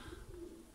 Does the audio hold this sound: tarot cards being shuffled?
no